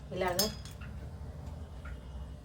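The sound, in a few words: spoon mixing spices and salt in a bowl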